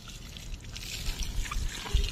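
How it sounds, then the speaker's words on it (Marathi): Tap water gushes steadily in a short, close burst, splashing onto a Labrador being bathed directly under the running tap. "नळ चालू कर"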